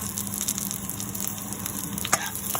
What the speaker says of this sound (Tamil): இதுக்குள்ள இப்போ எடுத்து வச்சிருக்கிற பெருஞ்சீரகத்தை போடுவோம்